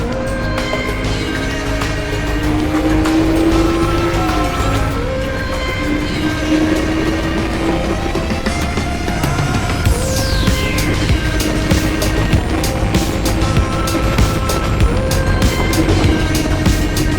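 A motorbike accelerates along an open road with a loud, steady engine drone whose rising tones climb as it speeds up, under strong wind rush and passing traffic noise.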